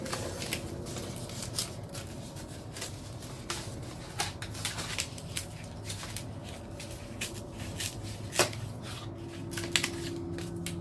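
Scissors snip through handmade recycled fabric flowers for a shabby chic heart wall hanging, a busy run of close, crisp cutting clicks and rustles repeating steadily over a low room hum.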